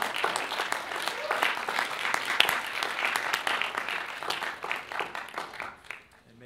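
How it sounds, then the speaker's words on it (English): An audience at a guest lecture claps for the cast of a musical production, a dense round of applause that holds steady and then thins out, with some voices mixed in. "could you stand so we can clap for you?"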